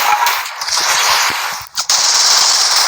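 Rapid video game gunfire fills the scene, dense automatic bursts sounding loud and close with a brief gap near the end before the shooting resumes.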